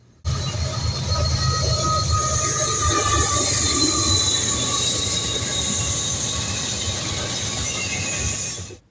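An eastbound intermodal freight train rolls past close by, a loud steady rumble of wheels with high metallic squealing, cutting off abruptly at the end.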